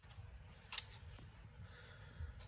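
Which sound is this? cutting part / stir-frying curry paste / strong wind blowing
cutting part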